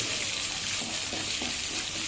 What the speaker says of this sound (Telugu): బాగా ఫ్రై చేసుకోవాలి ఆయిల్ బాగా వేగనివ్వాలి